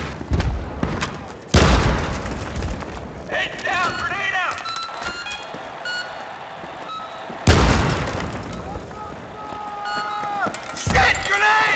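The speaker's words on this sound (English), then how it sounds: "Heads down, grenade out!" Grenade detonations in Battlefield 3 online multiplayer: two sharp, loud close bursts a few seconds apart, each trailing off into rumble, between game sounds and a player talking.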